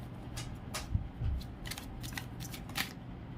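Tarot cards being shuffled by hand at a reading: a quiet run of quick papery riffles and light flicks, close and continuous.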